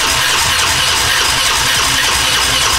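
A Gilera Runner scooter engine runs loud and close right after its timing has been reassembled, a dense, steady buzzing roar filling the whole stretch without a break.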